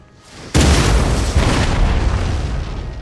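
A line infantry musket volley in Napoleon: Total War goes off as one sudden, loud, massed crack that rolls into a long, dense rumble of smoke and echo, fading slowly after the blast.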